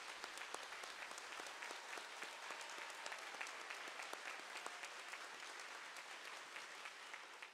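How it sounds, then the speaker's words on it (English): An audience of pastors applauds steadily at a Shincheonji Bible seminar in Seoul, a dense wash of many hands clapping that holds evenly for the whole stretch at a soft, distant level. "Let's give him a big round of applause."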